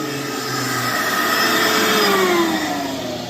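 A shop vacuum sucking up planer shavings drones loudly and continuously, its whine briefly sliding lower in pitch midway, close and without talk.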